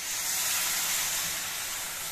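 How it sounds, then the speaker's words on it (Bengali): Boiled mung dal poured into a hot pan of oats and vegetables for masala oats khichdi, giving a steady, loud hiss of sizzling and steam that holds evenly throughout. "এবার সিদ্ধ করা মুগ ডালটা আমি ঢেলে দেবো এর মধ্যে"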